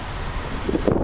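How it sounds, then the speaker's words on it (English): Gusty wind buffets the microphone on a fishing boat out on the water, a steady loud rumbling roar that swells slightly near the end, with no one speaking. "A little bit breezy today, as you can probably tell from the sound."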